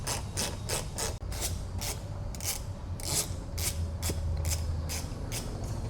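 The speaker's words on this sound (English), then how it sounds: "We're gonna start by taking off the factory T40s." Factory T40 Torx fasteners are removed from the roll bar of a Polaris Ranger 1500 Northstar cab with a ratcheting driver, giving a steady run of quick rasping clicks over a constant low hum.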